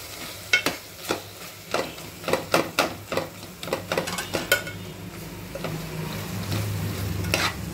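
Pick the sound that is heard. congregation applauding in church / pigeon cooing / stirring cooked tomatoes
stirring cooked tomatoes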